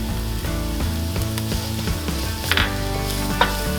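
Minced garlic sizzles in a pan of cooked, translucent onion, giving a steady close frying hiss with a few stirring scrapes over a background music bed.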